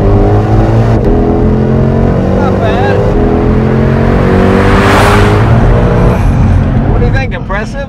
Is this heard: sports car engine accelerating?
yes